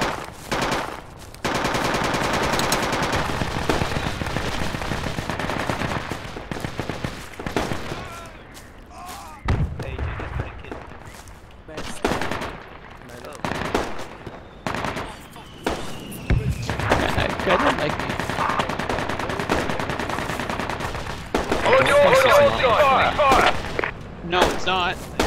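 Gunfire in the tactical shooter Project Reality during a Falklands battle at Goose Green: bursts of automatic rifle and machine-gun fire, single loud shots near and far, crackling irregularly over the whole stretch, mixed with game sounds and occasional voices.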